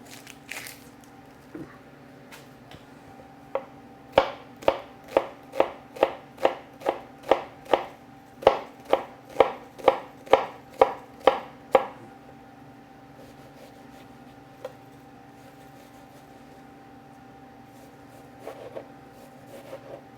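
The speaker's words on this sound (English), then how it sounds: "I'm going to go ahead and chop half an onion." A knife chops half an onion on a cutting board in a quick, even run of about fifteen crisp, close taps, followed by near quiet.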